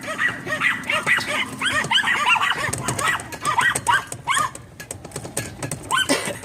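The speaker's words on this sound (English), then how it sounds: "I'm getting close to these noisy little yapping dogs" Several small dogs yap and bark in rapid, overlapping bursts close by, with high whiny yips between barks and some faint background noise.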